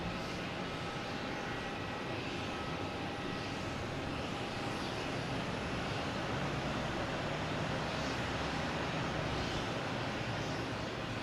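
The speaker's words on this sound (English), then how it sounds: "We have an American Airlines A321 Neo coming in from Phoenix." American Airlines A321neo jet arriving at Boston Logan Airport, a steady, broad engine roar heard from a distance that stays fairly even throughout, with no voices over it.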